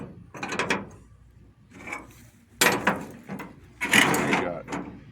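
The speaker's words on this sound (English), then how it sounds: "I'll take a few big wrenches and lay them over it." Large metal wrenches clank and scrape as they are laid one by one over a stuck brake caliper, giving several loud, close metallic knocks and rattles with short pauses between them.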